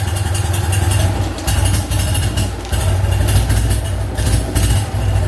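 A cold BMW R50/2 motorcycle engine idles with a loud, close, lumpy low chugging that pulses unevenly, with brief dips as the beat stumbles.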